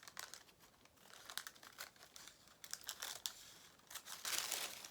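Paper sewing pattern piece for a beginner's fisherman's top being cut out by hand, giving soft, close crinkling and crisp rustling bursts that rise near the end, with no talking.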